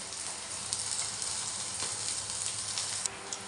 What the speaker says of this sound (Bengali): বেগুন আলুটা ভাজা হয়ে গেছে